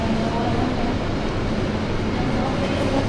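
Argo Cirebon passenger train pulling out of Cirebon station, a steady, loud broadband rumble of a long train rolling along the rails, continuous throughout with no distinct clacks.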